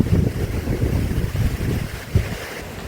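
Wind gusting around a shed in remote Alaska, buffeting the microphone with low, uneven rumbling bursts that rise and fall close by, with no voices.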